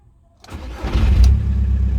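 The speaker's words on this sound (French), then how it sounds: "Ça a bien démarré." A Volkswagen Golf 4 engine cranks briefly, then catches and roars to life after an instrument cluster replacement, settling into a loud running rumble.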